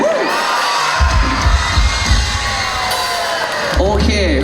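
A crowd cheers and shouts loudly for a band at a shopping mall event, with children's high-pitched yells and whoops rising over a constant roar.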